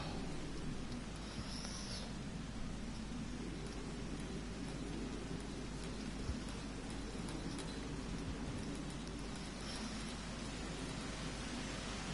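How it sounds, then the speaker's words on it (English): Steady rain hiss in a video game, a dense even wash of falling water filling the scene from start to finish with no talk and only faint scattered drops on top. "up here is where the rain actually dies down a little bit"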